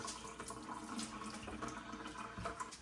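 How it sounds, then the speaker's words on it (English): Tap water runs steadily over rice being rinsed in a sifter at a kitchen sink, a continuous close splashing stream with no talking. "You should see the water run clear through the sifter."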